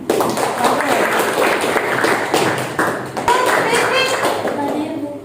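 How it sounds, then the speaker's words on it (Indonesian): Students in a mathematics class clap their hands together in a busy, continuous round, with voices mixed into the clapping. "tepuk tangan"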